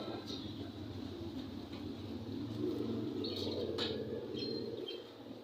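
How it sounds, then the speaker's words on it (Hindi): Pigeons cooing in a breeder's loft, soft low murmuring coos carrying on steadily beneath faint chirps and background noise, fairly quiet and somewhat distant. "माशाल्लाह जी बहुत प्यारे कबूतर हैं भाई के"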